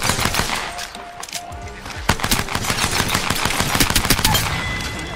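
Rapid bursts of gunfire in an Apex Legends match, P2020 pistol shots mixed with other weapons firing, loud and dense throughout with overlapping volleys.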